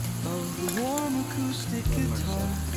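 Onions frying in a pan with cloves, cinnamon, cumin and bay leaves, a loud continuous close sizzle with light stirring and a high whine running over it.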